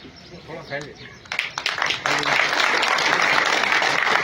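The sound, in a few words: applause welcoming the minister at a rally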